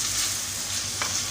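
Kebab pieces sizzle and fry in a pot on the stove and are stirred with a wooden spoon, giving a steady close crackle with soft scraping strokes.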